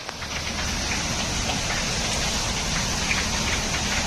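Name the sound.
heavy summer rain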